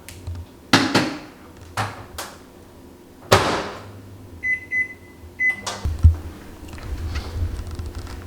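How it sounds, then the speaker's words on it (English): Several sharp clicks and clunks from a microwave door and buttons, a few short beeps, then a steady low hum as the oven heats vegetables. "I normally pop the veggies in the microwave first"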